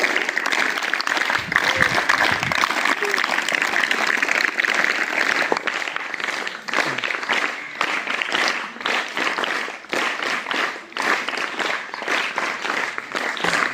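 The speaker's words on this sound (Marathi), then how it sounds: "जोरात वाजवला तर तीन टाळ्या तीन टाळ्या" Sustained audience applause at a Lokmanya Bal Gangadhar Tilak birth anniversary program, a dense, steady crowd clapping that stays loud throughout with slight swells and dips.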